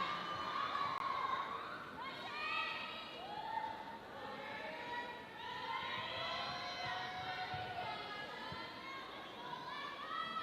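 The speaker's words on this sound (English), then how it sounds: "give these dancers a round of applause" A crowd at a Tahitian dance competition cheers and shouts for the dancers, with whoops and children's voices rising over a steady murmur of chatter, sustained and fairly distant.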